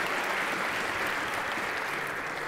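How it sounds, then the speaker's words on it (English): A live-event audience gives a round of applause for the judges, a dense continuous clapping that stays steady and fairly loud throughout. "Just a round of applause, ladies and gentlemen, for our judges"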